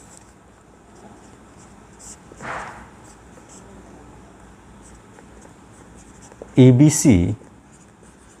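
Marker or chalk writing on a board in a class on triangles, with short scratchy strokes that finish in a louder squeaky burst near the end, while a teacher speaks.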